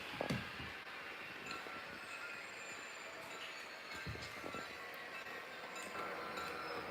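HO scale model locomotive running on track, a soft rolling rumble with faint metallic squeals and occasional clicks, quiet and continuous without voices.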